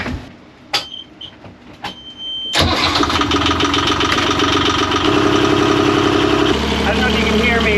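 A boat engine cranks with a few short clicks and starter attempts, then catches and settles into a loud, steady, close-up rumble while the idle shifts slightly; a voice speaks faintly near the start.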